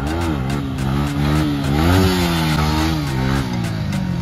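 A modified KTM Duke motorcycle engine revs steadily close by, its pitch rising and falling through several throttle blips over about four seconds with no voices.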